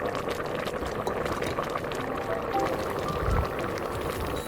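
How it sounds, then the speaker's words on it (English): Red dates simmer in a pot of boiling water on the stove, a steady, dense bubbling and hissing that stays even and moderately faint for several seconds without any talk. "Bring it to a boil, then reduce to medium heat and simmer for about 10 minutes until the dates soften."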